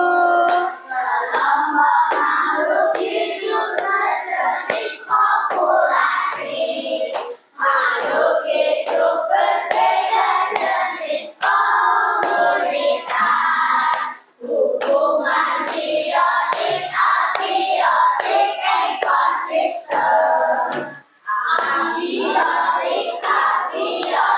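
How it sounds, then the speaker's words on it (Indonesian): A class of students clapping their hands together, a dense, continuous patter of many hands at close range with brief pauses between bursts. "Oke, tepuk tangan."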